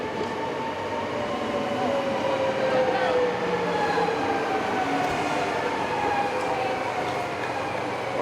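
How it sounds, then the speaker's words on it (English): A train passing through a station on the way to Breda in the Netherlands, a loud steady rumble of rolling cars with faint wheel squeals and clicks running through the whole clip, with no talking. "Let's watch this train come through."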